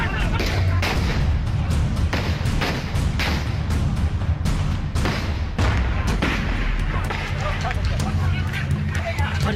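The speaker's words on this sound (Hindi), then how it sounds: "गोली चल रही।" Gunfire and exploding country-made bombs near a nomination site during a block chief election in Sitapur, heard as repeated sharp bangs and thuds in a continuous dense racket, with crowd noise and voices throughout.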